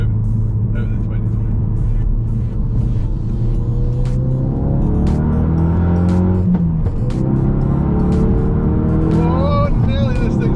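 A remapped Ford Focus RS, tuned to over 400 bhp, pulls hard through second, third and fourth gear. Its loud engine note rises in pitch through each gear, with drops at the shifts, and a voice speaks over the noise.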